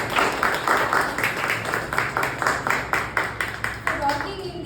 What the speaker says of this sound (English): can we all give a big round of applause to Toastmaster John and Toastmaster Bharat